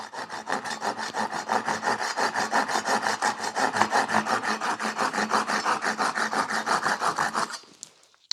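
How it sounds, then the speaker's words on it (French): A small Japanese Egoin pull saw cuts through a wooden rail in quick, even back-and-forth rasping strokes, loud and close, for about seven seconds before stopping abruptly. "une petite scie japonaise, une petite scie Egoin, quelque chose qui coupe bien"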